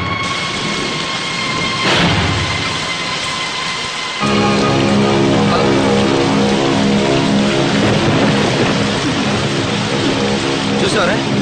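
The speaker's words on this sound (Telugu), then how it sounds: "వర్షం వస్తుంది." Steady heavy rain hisses without pause for over eleven seconds, joined partway through by a loud rumbling, droning layer, with no talking.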